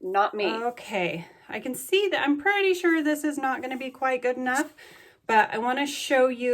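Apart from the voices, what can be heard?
None of the usual background noises is heard.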